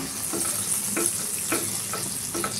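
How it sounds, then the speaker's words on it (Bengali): Food sizzling and frying in butter in a pan, with a steady bright hiss and a few soft scraping tosses spaced through it, close and unaccompanied by speech. "মাখন দিয়ে এটাকে করছি, টস করে নেব"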